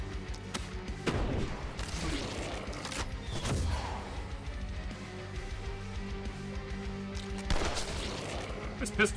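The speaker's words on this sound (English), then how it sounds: "This pistol shot." Pistol fire in the video game The Last Spell, a few sharp gunshot bursts over a busy, layered game soundtrack, with other combat noise in between.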